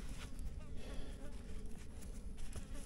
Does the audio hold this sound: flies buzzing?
yes